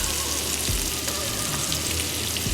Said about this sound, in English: I'm cooking in the bacon grease, and I'm just gonna cook it down for about 5 minutes